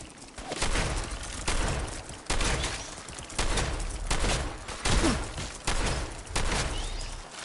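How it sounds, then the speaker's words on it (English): Fallout 4 gameplay gunfire: repeated loud bursts of rapid shots in clusters about a second apart, with booming low rumble between volleys and no voices. "Opening fire!"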